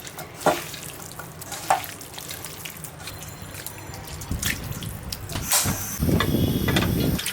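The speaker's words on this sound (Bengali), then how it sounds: "তেল উপরে চলে আসছে পুটপুট আওয়াজ হচ্ছে" Small fish frying in hot oil as the oil rises, giving scattered pops and crackles over a low steady bubbling that grows denser and louder toward the end, with occasional sharper spits standing out.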